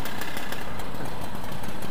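A flooded Mobylette moped engine sputters as someone tries to restart it, a rough broadband mechanical chatter with uneven knocking pulses, close and steady for two seconds.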